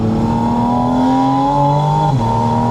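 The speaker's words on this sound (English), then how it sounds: "there is no car that sounds like that I've ever been in." A loud Porsche Spyder RS engine revs steadily at high pitch, holding a strained howl before dropping sharply as it shifts, then climbing again.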